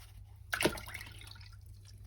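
Water sloshes and trickles as material is gently washed out of a gold pan holding paydirt from Scotland, with one brief louder splash near the start followed by quieter dribbling and drips.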